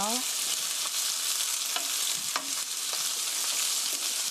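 Onions for curry rice stir-fry slowly in a pan, giving a steady broadband sizzle with occasional soft scrapes and clinks of the stirring utensil, close and continuous with no talk.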